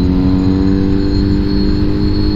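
A powerful naked motorcycle's engine runs loud and close, a dense, steady droning roar with a constant pitch throughout.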